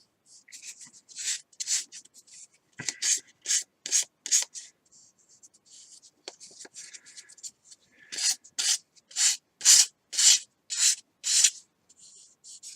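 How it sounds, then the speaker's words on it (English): Fine sandpaper buffing the rough edge of a model rocket rotor blade, with soft rhythmic scratchy strokes in two clusters of rapid back-and-forth rubbing separated by a short pause, close and quiet, with no talking. "you can always grab like your real fine sandpaper, just kind of buff that edge if you have a rough edge that you don't like."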